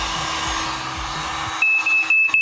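A heat gun's steady whooshing blower roars close up while heating plastic, then a high smoke alarm tone starts chirping intermittently over the hiss.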